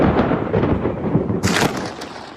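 Thunder from a lightning storm over Miami, with a cloudy sky and fast boats on the water, rolls as a steady loud rumble and is broken by a sharp crack near the middle before fading back into the roar.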